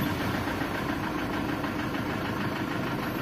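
Mitsubishi Triton diesel engine idling rough and steady, a continuous close mechanical rumble with faint knocking texture and no talk.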